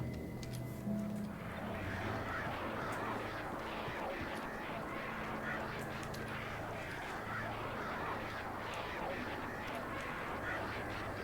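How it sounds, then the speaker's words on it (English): A murder of crows in the video game Alan Wake, a dense, noisy flock cawing and squawking continuously and loudly from start to finish over a low background drone. "Is that supposed to be the murder of crows I'm hearing right now?"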